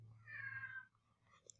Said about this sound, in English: I don't know if you could hear my wonderful cat in the background.